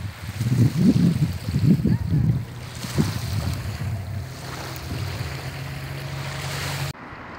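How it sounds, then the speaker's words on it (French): Surf washing onto a pebble beach on the Var coast, a steady low rush of water with bursts of louder wave wash early on, then a softer continuous roar with wind buffeting the microphone. "Une plage de cailloux."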